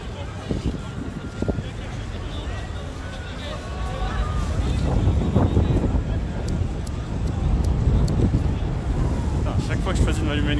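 Wind buffets a microphone outdoors during a yellow vest protest in Paris, producing low, gusty rumbling that rises and falls in surges, with voices talking intermittently through it.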